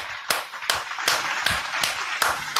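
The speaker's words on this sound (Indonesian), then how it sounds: "Tepuk tangan." Sharp, regular claps ring out about every half second, a steady rhythmic clapping over a hiss of background noise.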